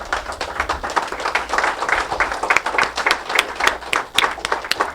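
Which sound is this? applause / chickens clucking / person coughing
applause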